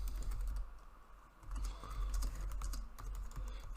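Rapid keystrokes clatter on a computer keyboard in an irregular run while text is typed into a Java programming editor, close and clear with no talking.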